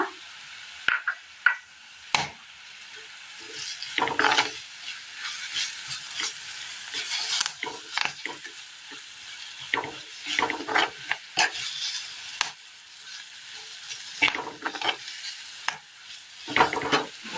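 Curry leaves and spice powders fry in a pan for a Kerala curry, giving a steady close sizzle broken by repeated scraping stirs and clinks of a spoon, with no talking.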